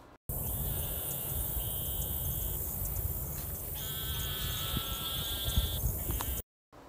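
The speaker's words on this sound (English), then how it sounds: "A male narrowmouth toad's call sounds like this." A male eastern narrowmouth toad gives two long, nasal, buzzing calls that sound like a bleat. They sit over a steady hiss of outdoor background noise and are moderately loud.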